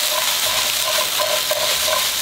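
Ingredients for chicken Vesuvio are stirred in a pan with olive oil, giving loud, regular scraping strokes over a soft frying sizzle, close up and without speech.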